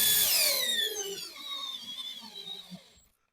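Milwaukee install driver sinking a 4-inch timber lock screw into wood on speed 2, a loud whirring drive that starts strong, then settles into a steady grinding buzz for about three seconds before stopping abruptly.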